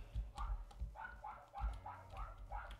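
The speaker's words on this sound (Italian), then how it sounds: "E il cane abbaia" A dog barks repeatedly in a steady rhythm during Pokémon Insurgence gameplay, sounding muffled and fairly faint over a low rumbling background.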